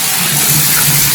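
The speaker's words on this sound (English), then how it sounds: "Lots of water coming out of the spout." Water gushes steadily from a bathtub spout, a loud continuous rushing pour close by.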